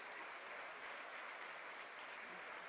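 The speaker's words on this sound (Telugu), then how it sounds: "వీళ్ళందరూ కూడా గట్టిగా చప్పట్లు కొట్టాలి." A large crowd at a government job-appointment ceremony in Ravindra Bharathi hall applauds continuously, a steady wash of distant clapping with no breaks.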